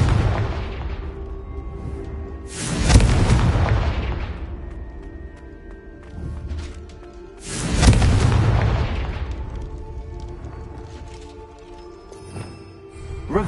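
Confringo fire spell in Hogwarts Legacy, two loud booming blasts a few seconds apart, each with a heavy low rumble that trails off slowly over faint ambient game sound.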